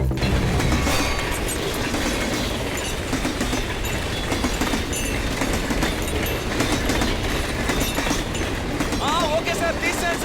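A train rolling past in a comedy film scene, with loud steady rumble and clickety-clack of railcars, a brief wheel squeal near the end, and voices talking underneath.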